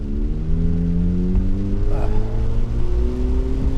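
A heavy BAIC BJ80 SUV engine pulls steadily as it accelerates on a wet, slippery road, a continuous low drone with rising harmonic tones heard from inside the cabin, no talk over it.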